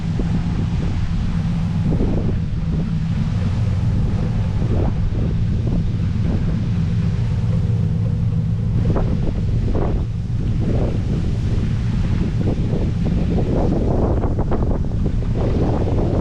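Strong wind buffets the microphone in a constant heavy roar, with a few faint knocks and rustles underneath.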